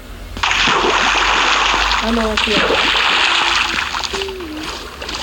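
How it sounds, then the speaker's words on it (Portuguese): Swimming and splashing in water in the video game Minecraft, a continuous sloshing wash of game water under two players talking in Portuguese. "É pra gente nadar."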